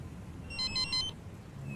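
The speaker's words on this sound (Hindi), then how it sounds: "मेरा फोन क्यों बज रहा है?" A brief electronic ring, a quick burst of repeated high tones, faint against a low background hum.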